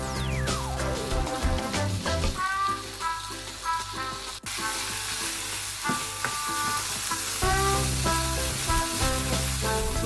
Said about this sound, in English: we stir fry it for 3 minutes